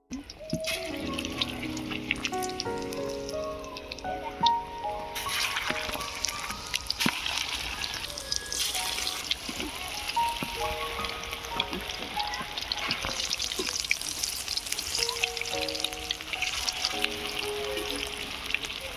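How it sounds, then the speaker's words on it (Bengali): Fish kebabs frying in mustard oil, giving a steady loud sizzle and crackle that runs unbroken with occasional stirring clatter. "এবারে কাবাবগুলো ভেজে নেব"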